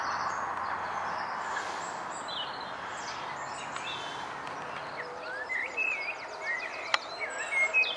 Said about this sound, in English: There's a song thrush, being very quiet.